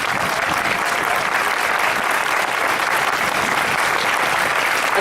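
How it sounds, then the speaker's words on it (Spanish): Dense, steady applause from a sizable crowd at a political rally fills the whole stretch, loud and continuous without a break. "Un gran aplauso para Rosa."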